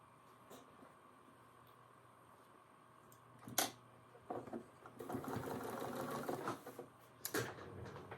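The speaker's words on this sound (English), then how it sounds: "Sew that together." A sewing machine stitches quilt block pieces together in short bursts, quiet and close, with a long running stretch near the end broken by brief pauses and handling clicks.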